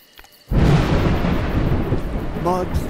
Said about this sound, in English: Mud, thunder and lightning are terrible opponents.